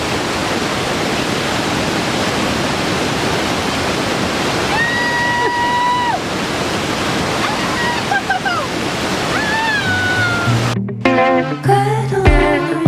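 A long river runs in the cold outdoors, its steady broadband rush of flowing water continuous and close throughout, with brief voices and tonal calls appearing partway through and louder handling noise near the end.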